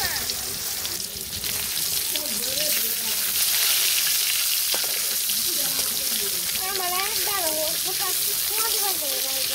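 Food fries and sizzles steadily in hot oil in a village kitchen, a constant crackling hiss under a voice talking.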